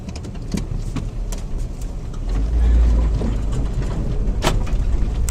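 Vehicles drive across an open field, their engines rumbling low and close, with a heavier swell of rumble midway, scattered sharp knocks, and a steady hiss of background noise.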